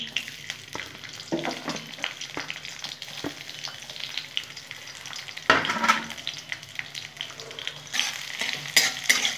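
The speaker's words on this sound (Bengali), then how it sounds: "রসুনটা আমি একটু লাল লাল করে ভেজে নেব" Crushed garlic fries in a pan with a constant close sizzle, broken by irregular scraping stirs and bursts of louder spattering, with no talk.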